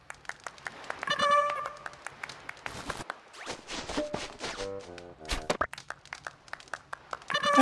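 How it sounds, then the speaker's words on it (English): In Animal Crossing: Pocket Camp, game characters clap, giving quick sharp pattering bursts mixed with short chimes and soft game effects, fairly close and clear, alone without talk. "I love that Meringue claps every time."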